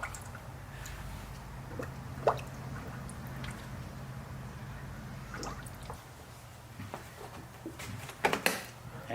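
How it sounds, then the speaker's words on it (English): A car's upper radiator hose is squeezed by hand to force trapped air out of the coolant, producing faint wet squishes and scattered drips and gurgles over a steady low hum. "all I'm going to do is just squeeze this upper radiator hose to try to push out the rest of the bubbles"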